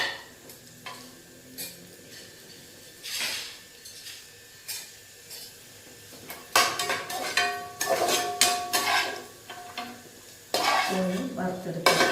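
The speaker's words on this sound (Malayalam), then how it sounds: "മുന്തിരി കൊടുത്തിട്ട് അതിനെ വറുത്തെടുക്കണം" Raisins frying in ghee in a pan for ghee rice, with a steady crackling sizzle broken by louder bursts of spitting and scraping stirs in the later half; no one speaks.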